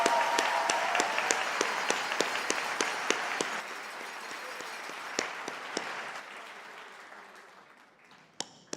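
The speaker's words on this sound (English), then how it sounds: "Can I ask for a round of applause for our aspiring stand-up comic, an amazing order, Olivia Blair." University graduation audience for management and science faculties giving a round of applause, a broad crowd wash with distinct sharp nearby claps that gradually thins and fades out over several seconds.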